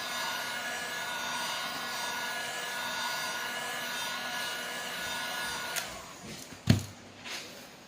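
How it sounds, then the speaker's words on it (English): A heat gun blows steadily while heating and stretching carbon fiber vinyl wrap on a fender flare, a close continuous whirring hiss that cuts off near the end, followed by a few handling knocks. "So now we're gonna start heating the inside like I was talking about, and stretching in."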